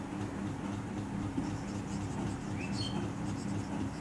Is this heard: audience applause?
no